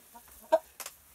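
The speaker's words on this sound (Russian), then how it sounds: "Но петушок вроде бы не болеет." A large rooster being given medication clucks up close in a few short, quiet calls, with one sharper cluck standing out amid soft background rustling.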